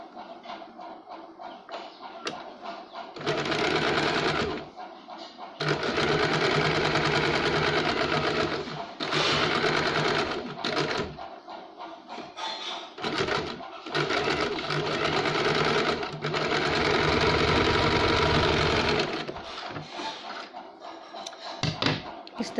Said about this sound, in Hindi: इसके हम ऊपर फिनिशिंग के लिए एक सिलाई लगाएंगे।